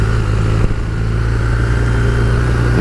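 A 2019 BMW R1250R with its 1250 boxer engine and standard exhaust, heard while riding: a loud, steady low engine drone with a constant hum and no talking.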